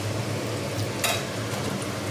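Bora fritters fry in a pan, a continuous close crackling sizzle that stays steady throughout, with one brief brighter burst midway.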